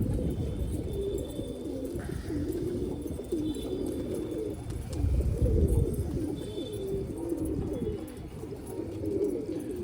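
Several pigeons coo continuously at close range, a soft, rolling chorus of low throaty calls overlapping without pause, with faint ambient noise behind.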